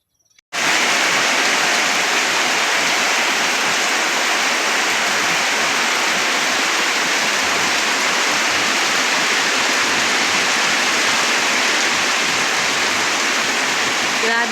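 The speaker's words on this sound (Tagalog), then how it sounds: "Grabe ka kusog sa ulan guys" Heavy rain pours down in a sudden, loud, unbroken roar that begins within the first second and holds dense and steady to the end, with no voices heard over it.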